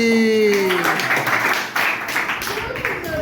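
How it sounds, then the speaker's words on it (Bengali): Children at an orphanage applauding, a burst of quick overlapping handclaps that swells and then thins out, with voices mixed in. "হাততালি"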